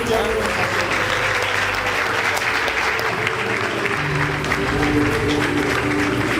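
Sustained applause from a large crowd, steady dense clapping throughout with a voice faintly audible underneath.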